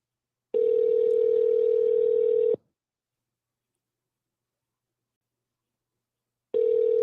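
Outgoing call ringback tone on a telephone line, a steady electronic tone lasting about two seconds, then a long silence before the next ring begins, clear and alone.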